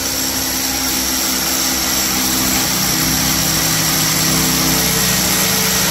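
Electric drill gun running continuously while boring a hole into a wall during an air conditioner installation at a showroom, a loud steady whirring drone throughout with no speech.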